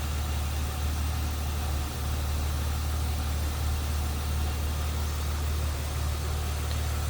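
A 1998 BMW Z3 M Roadster's 3.2-liter dual overhead cam inline-six idles steadily and evenly, a close, constant low hum with no voices over it.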